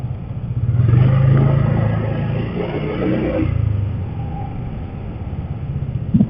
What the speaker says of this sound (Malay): Ada lagi motor tu kat situ.